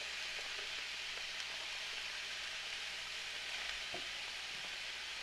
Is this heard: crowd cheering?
no